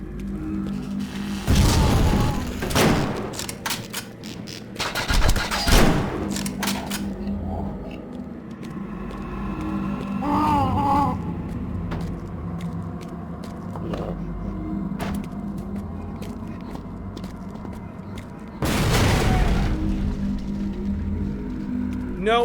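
Deep booming blasts erupt in a few heavy bursts in the video game You Are Empty, loud and close, with rumbling game noise filling the gaps between them.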